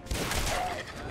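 A burst of weapon fire in Fallout 4 amid ghouls, a loud, rough rattle that holds steady for about a second before easing slightly.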